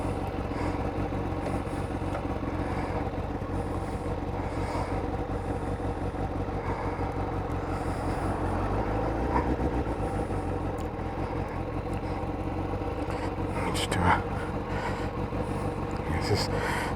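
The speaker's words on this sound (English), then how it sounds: "one thing I've not done yet on this bike is a hot start" A Kawasaki ZZR600 motorcycle engine idles steadily after a hot start, a continuous low rumble that runs close and even throughout with only small surges, and voices are heard over it.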